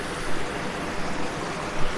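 A mountain river in Uttarakhand runs with a constant, fairly loud rushing hiss, even and unbroken, nothing else standing out over the water noise.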